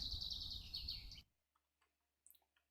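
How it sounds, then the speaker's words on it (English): Birds chirp in a music video, a bright twittering burst up front that cuts off abruptly, followed by a few faint, scattered tweets in near silence. "again with the song, with the birds, the birds chirping"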